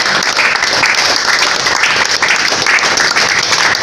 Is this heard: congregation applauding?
yes